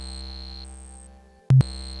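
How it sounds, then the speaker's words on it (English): A Kodamo Mask1 synthesizer plays a steady sine-wave tone with bit-mask reduction layered with faint harmonic overtones, broken by a brief loud buzzy glitch near the end before the tone resumes. "Let's try going down from 32 to 31, which is a sine wave."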